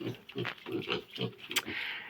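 Piglets oink and grunt in quick bursts, several short snuffling calls close by, with a brief sharper squeal midway.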